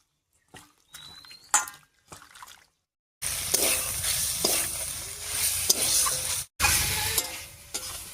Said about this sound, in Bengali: মশলার সঙ্গে ফুলকপি আর আলুটা খুব সুন্দর করে কষিয়ে নিয়েছি